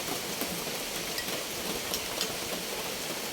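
Rain falling steadily outdoors, a dense continuous hiss of drops hitting surfaces with a few louder pattering spots, moderately loud throughout.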